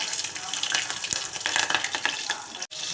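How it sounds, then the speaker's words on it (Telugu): Green chillies frying in ghee and oil with mustard seeds, a dense close sizzle with crackling pops and a scrape of stirring, steady throughout with a brief break near the end. "కొద్దిగా ఫ్రై అవ్వాలి."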